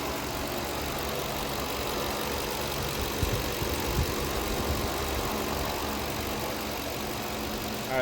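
A Lexus GX470 with the 2UZ-FE 4.7L V8 idles steadily, a constant close engine drone with a faint knock-like tick, running alone with no talk.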